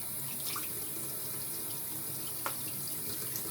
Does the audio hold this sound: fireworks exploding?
no